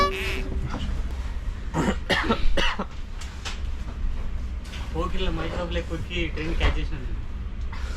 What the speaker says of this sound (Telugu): మళ్ళీ దగ్గుతూనే ఉన్నాడు